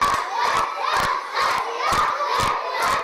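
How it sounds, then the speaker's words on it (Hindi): A classroom crowded with children shouting and playing, bursts of loud high-pitched yelling that come in rhythmic waves, with claps or hits mixed in. "ऐसे में बच्चे क्लास में तूफानी शरारतों के साथ अपना वक्त गुजारते हैं।"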